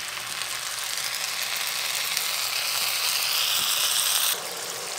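Tomato puree hitting a hot pan for egg curry, a loud, steady sizzle and fry hiss that holds for several seconds, then drops slightly near the end.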